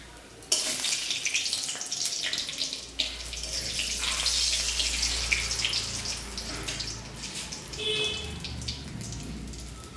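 Potatoes and soya chunks frying in a wok give off a loud, steady sizzle that starts abruptly and holds as a dense crackling hiss, with small pops throughout.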